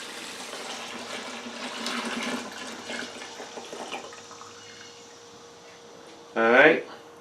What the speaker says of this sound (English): we're going to pour what we got here so far into the pumpkin